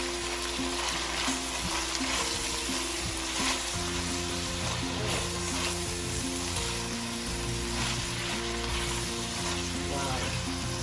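Lamb fried rice seasoned with black pepper sizzles steadily in a hot pan while being stirred, a dense continuous frying hiss with scraping stir sounds throughout, no voices.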